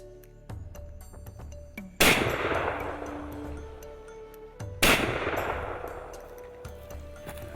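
A rifle is test fired in two loud, sharp shots about three seconds apart. Each report rings and decays away into a quieter outdoor background.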